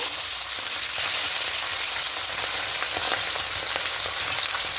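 A katla fish head frying in oil gives a loud, dense, continuous sizzle with crackling throughout, close up and without voices.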